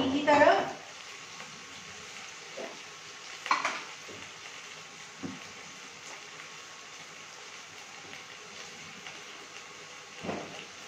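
Tomatoes sauté in a pan with a soft, steady sizzle, broken by occasional clinks and scrapes of stirring and utensils over a quiet background.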